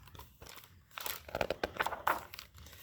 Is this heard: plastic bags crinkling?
yes